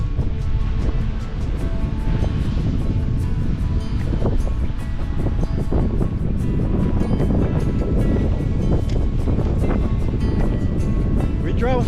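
Surf washes onto a beach at dusk, a steady, loud roar of breaking waves mixed with wind buffeting the microphone throughout, with no let-up.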